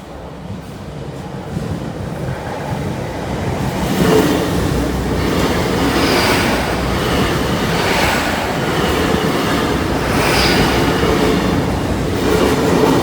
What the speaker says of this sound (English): the second train is now approaching,